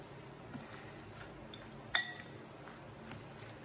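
A utensil stirring grated potato, salt and egg for hash browns in a bowl gives faint, sparse clinks against the dish, with one sharper knock in the middle and a quiet room around it.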